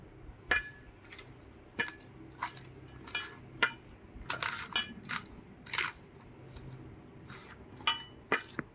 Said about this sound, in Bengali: রসুন কুচনো আদা কুচনো এগুলোকে একটু ভালো করে মুলে নিচ্ছি পরিমাণ মতন কালো জিরে দিয়ে দিলাম